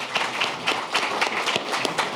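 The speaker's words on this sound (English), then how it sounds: "Let's give our affiliate a big round of applause." Audience at a member forum clapping, a brief burst of applause with distinct individual hand claps, moderately close and even throughout.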